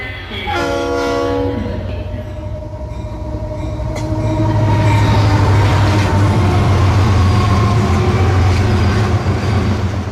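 Steady rumble of a moving train with a horn sounding near the start, continuous and loud throughout, used as a sound effect in a Bengali horror audio drama.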